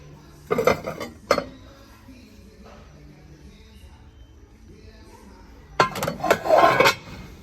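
Dishes and cutlery clatter in two bursts, a brief clink early and a longer, louder rattle of plates near the end, with quiet room tone between.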